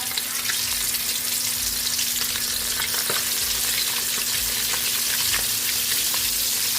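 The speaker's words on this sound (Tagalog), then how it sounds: "Magpiprito na tayo ng chicken." Chicken pieces frying in hot oil give off a loud, steady, close sizzle with constant crackling pops and no voices.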